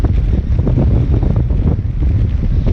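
Strong wind buffets the microphone outdoors during metal detecting, a loud steady low roar with gusty rumbling throughout and no voices.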